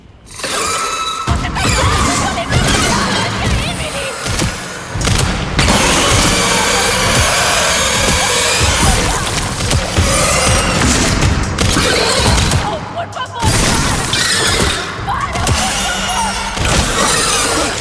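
Loud, dense video-game gunfire and crashing impacts from Resident Evil Requiem, fighting at a water and sewage treatment plant, a near-continuous barrage with brief pauses, close and harsh.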